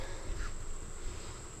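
Honeybees buzz steadily and close during a hive inspection, a continuous insect drone with no talking over it.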